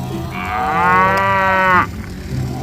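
A toy cow gives a single loud, drawn-out moo, close and clear, over a quiet background with no talking.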